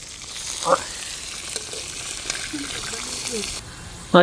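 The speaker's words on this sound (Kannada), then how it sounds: "ಬೆಳ್ಳುಳ್ಳಿ, ಈರುಳ್ಳಿ, ಆಯಿಲು, ಚಿಕನ್ ಹಾಕಿ ಮಿಕ್ಸು" Chicken frying in oil with garlic and onion, a steady hiss and sizzle with occasional stirring scrapes, a voice speaking briefly over it.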